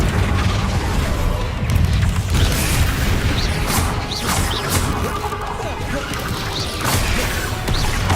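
Spells cast in the video game Hogwarts Legacy, including Levioso, Descendo, Confringo and Flipendo, burst out as a dense run of loud magical crashes, booms and whooshes that keep going without a break.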